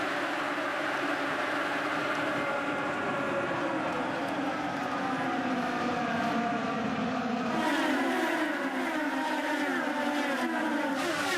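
A pack of IndyCar race cars at New Hampshire Motor Speedway roars past as they accelerate off turn four at the green-flag start, a dense, steady engine drone with rising and falling pitch and no voices heard.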